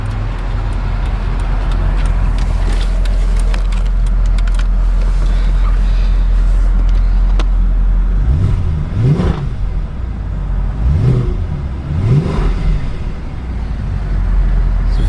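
A 2009 Mercedes-Benz S63 AMG with a 5.5 liter bi-turbo V8 idles with a loud, steady rumble, then revs in several sharp, rising blips close to the microphone.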